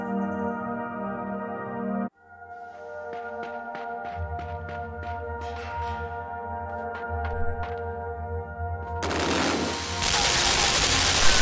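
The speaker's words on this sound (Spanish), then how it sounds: "Puedo romper una ametralladora con otra." Machine gun fire in the video game Limbo comes as rapid bursts of sharp shots over a droning background, loud and close, ending in a dense roaring barrage.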